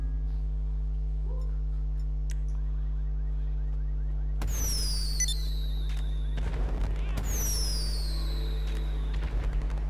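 Small fireworks in GTA 5 Online launch with rising whistles and crackling bursts, two volleys over a steady low hum of game background noise.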